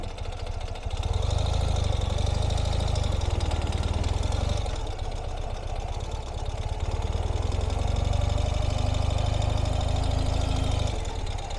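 A 2020 Ural Gear Up sidecar motorcycle pulling away under throttle, its boxer engine thumping low and loud as revs rise and drop through gear changes, with no talk.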